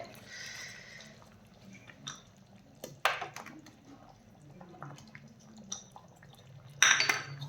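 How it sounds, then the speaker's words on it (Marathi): Fried paneer added to boiling rice in a pressure cooker for paneer matar pulao, soft clinks of a pot and spoon with a low bubbling simmer and a few sharper close clatters. "त्यामध्ये आता आपण हे तळलेलं पनीर घालून घेऊयात."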